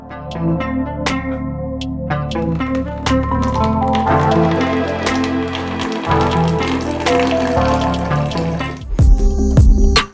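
A drink pours steadily into a can in a bubbling, gurgling stream with rising pitch as the can fills, ending with a short burst of clatter.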